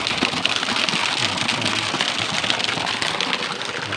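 Steady, broadband rushing of water fills the whole stretch, a continuous dense hiss of Tham Soda waterfall in Nong Phok, Roi Et, Thailand, pouring nearby, with no voices.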